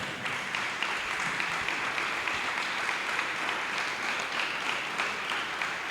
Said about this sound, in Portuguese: Creo que se merecen un aplauso final.